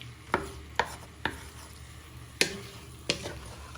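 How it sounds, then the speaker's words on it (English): Chicken and chorizo frying in a pan, stirred and broken up with a wooden spoon: a low steady sizzle under several sharp, spaced scraping knocks of the spoon against the pan, close and fairly quiet, no talking. "start frying your chicken and chorizo, breaking it up. Keep moving it with the wooden spoon till it's got some colour on it"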